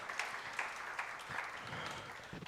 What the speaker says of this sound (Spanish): Dale un aplauso al Señor si tú puedes creer eso.